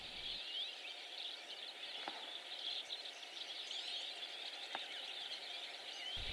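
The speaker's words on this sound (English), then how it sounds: "Finches are noisy, wicked noisy." Many small birds chatter and twitter at once in a dense, continuous high-pitched chorus, with a couple of sharper clicks standing out.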